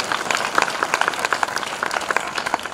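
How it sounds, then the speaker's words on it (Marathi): An audience in a church gathering claps for the musicians and kirtan singers, a loose scattering of individual hand claps at moderate volume with no talk over them. "टाळ्या वाजवून या ठिकाणी आनंदाने आपण त्यांचा गौरव करूया"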